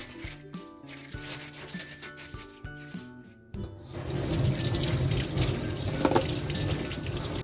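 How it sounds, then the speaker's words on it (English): A cucumber scrubbed with coarse salt under a running kitchen tap, water gushing steadily into the sink after some earlier handling clatter, close and fairly loud. "Wash the cucumber with coarse salt."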